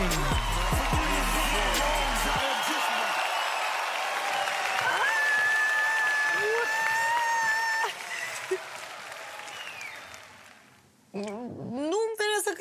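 A studio audience on a Romanian entertainment show breaks into stormy applause for a host, with cheering and music over the clapping; the applause fades out after several seconds, and a voice begins speaking near the end.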